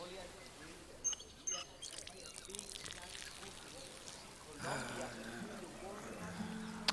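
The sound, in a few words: faucet turned on, running water in Hitman 2 video game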